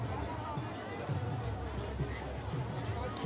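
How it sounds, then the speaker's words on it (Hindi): Steady crowd hubbub on the Ganges bank at Ram Rekha ghat in Buxar, where people bathe, worship and children play in the water. Indistinct voices blend into a continuous, even murmur with no clear words. "आगे भीड़ बहुत है।"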